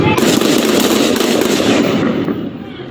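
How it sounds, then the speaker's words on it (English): Police officers open fire during an officer-involved shooting in Burbank, California, producing a rapid, dense volley of loud cracks that fades toward the end. "Shots fired from my partners."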